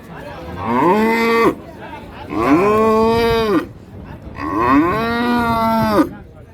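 A cow lows three times in long, loud, close moos with short pauses between them, amid a busy rural cattle market where Friesian cows with calves are sold; faint crowd murmur sits underneath.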